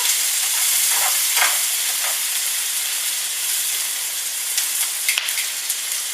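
Onions fry in a pan, giving a loud, close, steady sizzle and hiss with occasional stirring clicks and pops, continuous throughout with no talking.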